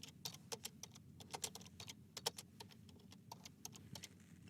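Fingers type on a computer keyboard in an irregular run of quick, crisp key clicks, close and quiet, with no one speaking.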